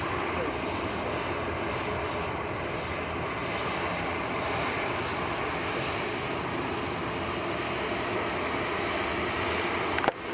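Lufthansa City airliner at Manchester Airport, a steady loud roar of aircraft engines carrying on unbroken throughout, with a brief clunk at the very end.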